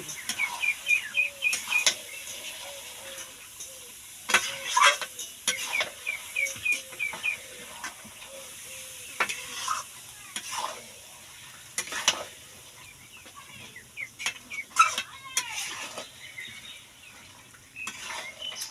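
Mutton with salt sautéing in a pan, a soft continuous sizzle beneath repeated scraping and clattering strokes of a spoon stirring, close by, in uneven bursts with a faint bird chirp in the background.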